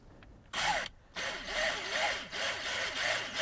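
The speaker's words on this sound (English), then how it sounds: "Now you're drilling through plastic," A power drill bores slowly through the plastic dash cover of a 1999 GM OBS truck, a loud, steady whine with two short pauses early on, running continuously and close by.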